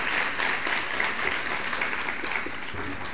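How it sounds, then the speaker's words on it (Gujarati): An audience at a religious discourse gives sustained, dense applause, a steady wash of clapping that holds at an even level throughout. "આપણે તાળીઓના ગડગડાથી એમને"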